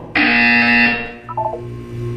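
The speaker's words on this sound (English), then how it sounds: "When you hear the buzzer, look down at the floor." A loud, steady electronic buzzer in the video game Portal 2 sounds alone for about a second, then cuts off and a short run of softer electronic tones follows.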